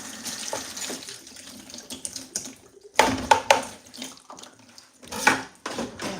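Water splashes from a tap or is poured into a blender jar while cooking jollof rice in a home kitchen, with bursts of gushing and clattering pots, loud and close, in several uneven spurts.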